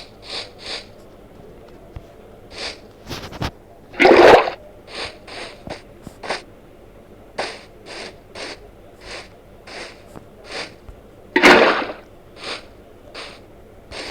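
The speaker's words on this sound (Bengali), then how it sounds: "এখানে বাকেট, এখান থেকে আমি পানি নিয়ে এখন এখানে দিয়ে দিই।" Water is scooped and poured from a bucket in Minecraft survival mode: two short splashing whooshes stand out amid a string of small, regular game clicks and steps, with no talking.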